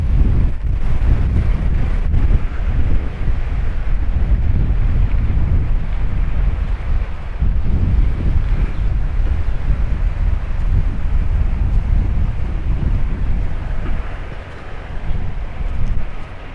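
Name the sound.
wind blowing on a street in Paphos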